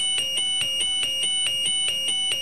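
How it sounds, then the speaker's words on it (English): Shrill electronic alarm box blaring in a fast, regular pulsing pattern, loud and continuous, each beep sharply repeating about every quarter second with no talking. "that caused the alarm box to live up to its name and start blaring out an alarm"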